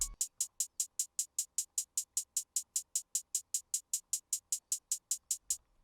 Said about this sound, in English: This two-step hi-hat sounds like this